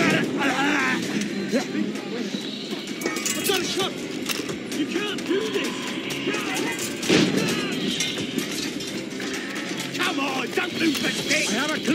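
Gunfire in the video game Assassin's Creed Rogue, loud repeated shots and blasts running throughout amid battle noise, with a voice shouting over it.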